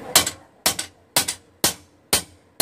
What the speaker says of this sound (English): Notice they're lighter blows, not hitting hard, not trying to move a lot of the metal there,